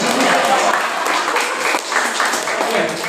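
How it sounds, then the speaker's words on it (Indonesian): Audience clapping in a university lecture hall during a public education lecture, a steady burst of applause mixed with voices, fairly loud and close. "Ya tepuk tangan buat saya."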